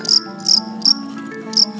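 A fighting cricket chirps in short, bright bursts, about four trills repeating at a steady pace, close and clear over a faint low background hum.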